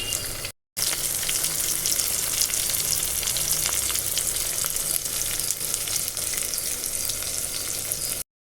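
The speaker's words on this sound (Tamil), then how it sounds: "ஒரு பெரிய சைஸ் தக்காளி எடுத்து அரிஞ்சு சேர்த்துக்குவோம். தக்காளி நல்லா கரைஞ்சி வர அளவுக்கு வதக்கி எடுத்துக்குவோம்." Chopped tomato sautéing in oil for Tamil kara kulambu, a dense continuous sizzle and crackle close to the pan, broken by a brief silent gap near the start.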